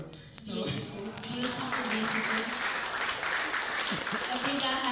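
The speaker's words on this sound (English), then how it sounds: "A bigger hand of applause for guys" Audience applause at a national symposium on women, peace and security: sustained clapping from a crowd that holds steady for several seconds, with voices and cheering mixed into the din.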